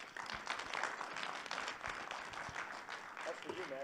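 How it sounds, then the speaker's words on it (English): An audience at a developer conference applauds as a general manager is brought on stage, a fairly quiet wash of clapping with a voice speaking over it near the end. "Please give you a big round of applause."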